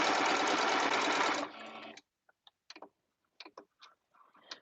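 A close sewing machine stitches in a fast, steady whirring run for over a second, then slows and stops, followed by scattered small clicks and taps as the fabric is handled.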